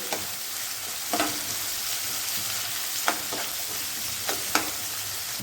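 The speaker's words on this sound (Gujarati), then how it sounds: "થોડીક વાર માટે ડુંગળીને આપણે ખાવા દઈશું" Onions fry in a pan for a methi matar curry, giving a steady, close sizzle with occasional soft clicks from stirring.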